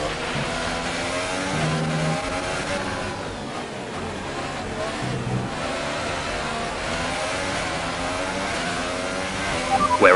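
An F1 car engine screams at full racing revs in the video game F1 2018, loud and continuous with shifting pitch, building to a sharper rise at the very end.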